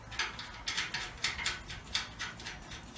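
Metallic ratcheting clicks in short bursts as nuts are tightened on a car chassis mounted on a rotisserie, close and fairly quiet with no talking.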